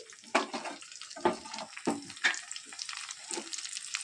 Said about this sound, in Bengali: আর এখন মশলাটা ভালোভাবে কষিয়ে নিচ্ছি।